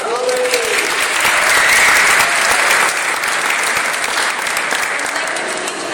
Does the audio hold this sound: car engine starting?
no